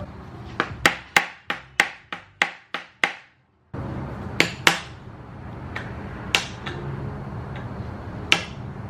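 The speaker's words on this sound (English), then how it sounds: "Basically, I'm just turning while I hit this." Sharp metallic strikes on a wrench, used to work loose a stripped bolt on an Acura RSX, come as a quick run of about eight close, loud hits, then a pause and a few scattered blows over workshop background noise.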